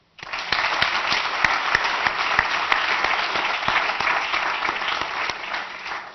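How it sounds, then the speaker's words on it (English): Loud, sustained applause from an audience at a university anniversary evening event, steady dense clapping that starts abruptly and fills the whole stretch without talk. "I would like us to give one last round of applause for our speakers and alumni"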